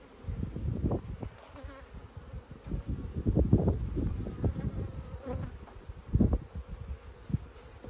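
Steady buzzing of many Carpathian honey bees close by, a dense humming swarm with brief louder swells as individual insects pass near.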